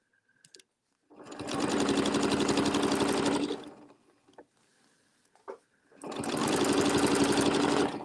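Sewing machine stitching in the ditch while quilting, two loud close bursts of rapid mechanical whirring and needle clatter separated by a quiet pause with small handling clicks.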